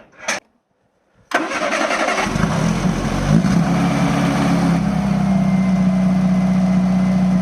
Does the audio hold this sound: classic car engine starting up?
yes